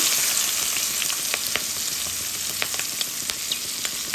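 Chopped ginger added to a hot pan of oil with green chillies for bitter melon dal, giving a loud, close, continuous hiss with a few faint clicks over it and no talking.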